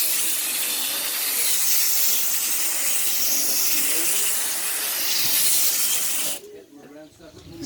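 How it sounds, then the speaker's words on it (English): A sprayer hisses steadily while spraying down a vintage Day & Night air conditioner unit, loud and continuous for about six seconds before cutting off abruptly, with faint background noise remaining. "start spraying this down."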